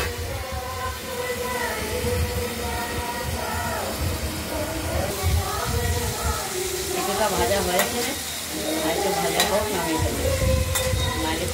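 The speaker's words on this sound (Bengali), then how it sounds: "ফুলকপিগুলো ভাজা হয়ে গেছে" Cauliflower florets fry in a pan with spices, a steady sizzle under repeated scraping and stirring strokes of a utensil against the pan, with a low hum and faint voices in the background.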